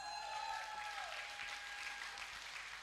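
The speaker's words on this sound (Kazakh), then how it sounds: "шапалақ" Applause from a studio audience on a Kazakh talk show, a quiet, steady wash of many clapping hands with a faint tonal sound fading out early, no speech.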